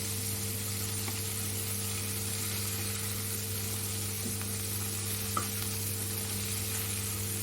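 Chicken wings fry in hot oil with a steady, even sizzle that continues without a break, backed by a low constant hum.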